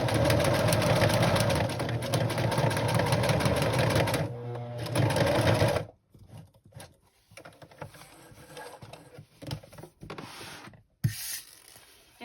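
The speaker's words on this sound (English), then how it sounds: "I'm going to sew around here, and then I will sew this onto this." Sewing machine stitching fabric onto a waterproofed printed pillow, running steadily with a fast rhythmic whir for several seconds, pausing briefly, then stopping, followed by quieter handling clicks and rustles.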